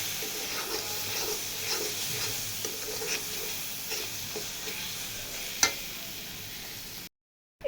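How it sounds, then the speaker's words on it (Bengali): Small fish and onion simmer in a spice masala in a pan, a soft continuous sizzle with scraping stirs and one sharp clink before it cuts to silence. "সুন্দরভাবে আস্তে আস্তে করে মশলাটা ভালোভাবে কষিয়ে নিতে হবে"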